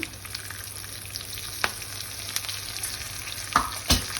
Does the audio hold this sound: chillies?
yes